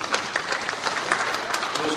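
Brief scattered clapping from the congregation at a Korean church presbytery council general assembly worship service, a busy patter of hands lasting a couple of seconds.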